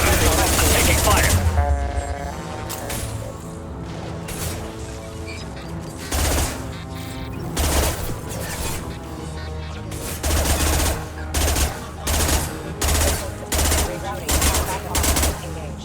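Gunfire in Mass Effect 2 combat, rapid automatic bursts followed by a run of evenly spaced sharp shots, loud and close, with talk in places.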